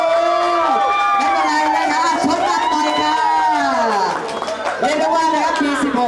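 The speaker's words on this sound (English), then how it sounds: "the crowd was still strong" A crowd at the final round of a Bangkok regional Beyblade tournament, with steady babble and shouting voices filling the space and brief cheering swells throughout.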